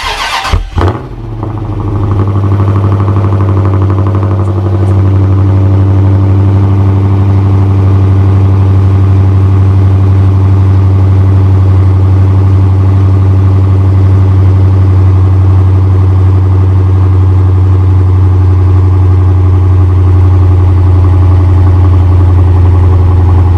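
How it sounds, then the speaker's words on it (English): A Dodge Challenger or Charger engine, unstarted for many months, cranks and fires up on a cold start after a battery change, then settles into a loud, steady idle with a deep, even rumble that holds without change. "we're definitely going to want to hear this cold start"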